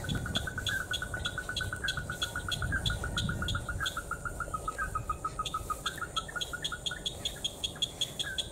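Red-eyed bird call played from a loudspeaker at night, a rapid series of clear, high repeated notes in steady rhythm, close and fairly loud over a low background rumble.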